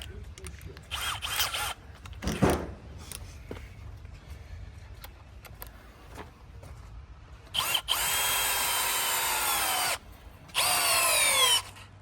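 A Bosch power drill whirs in several short bursts, ending in two longer sustained runs, with clicks and handling noises between them, close and fairly loud.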